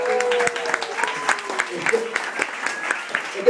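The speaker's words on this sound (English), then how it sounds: "crowd goes wild" Audience applauding and cheering after a street magic trick with a ring and rope, uneven bursts of clapping and whoops up close, mixed with excited voices talking.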